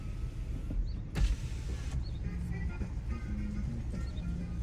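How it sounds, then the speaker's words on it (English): The electric window of a car rolls down as the car drives along a Detroit street, a steady motor whine heard under road rumble inside the cabin. "Go ahead and maybe roll down the window a little bit."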